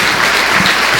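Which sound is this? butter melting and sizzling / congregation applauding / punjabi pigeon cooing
congregation applauding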